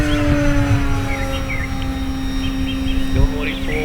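An E-flite Cherokee 1.3m RC model airplane on 3S power climbing at full throttle, a steady high electric motor whine and propeller drone holding constant at moderate distance, with outdoor wind noise and a brief thump near the end.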